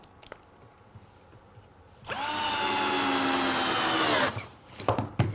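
Cordless power drill driving screws into pine and plywood, one loud close burst of whirring motor lasting about two seconds, framed by quieter handling knocks and clatter before and after.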